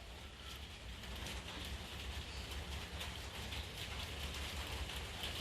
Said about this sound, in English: You can probably hear the rain falling on the tin roof.